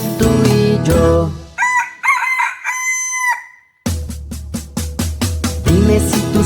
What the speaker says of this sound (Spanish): Dime si tú sabes cómo hace el gallo.